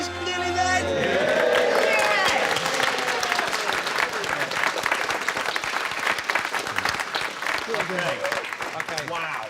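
A studio crowd claps and cheers for a team after an electric model train makes it through water, loud dense applause with whoops, while voices talk over it.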